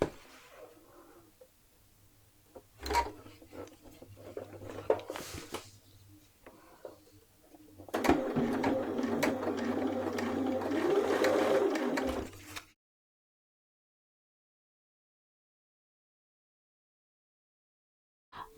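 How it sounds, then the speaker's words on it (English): Sewing machine stitching around a dress neckline, with scattered clicks and handling noises before a sustained close whir that ends abruptly, followed by silence. "now I'm going to stitch about an 1/8 of an inch away from the fold, all the way around the neckline"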